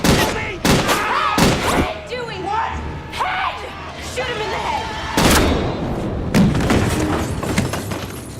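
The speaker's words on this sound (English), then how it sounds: "He has to drop on him with a shotgun, shooting him again and again." Shotgun blasts fired again and again at Jason in a Friday the 13th film, several sharp loud booms spaced a second or two apart, mixed with shouting voices and film score.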